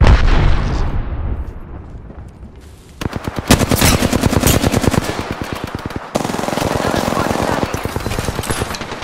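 Rapid automatic gunfire in the video game Apex Legends comes as long loud bursts of close, evenly spaced shots with a short break between them, after a fading boom at the start.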